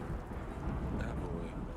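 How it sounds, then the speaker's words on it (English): Stormy weather in the video game Yes, Your Grace: a steady wash of rain with a low thunder rumble underneath, loud and continuous, with no talk over it. "I sense something bad is coming. Oh, a rain."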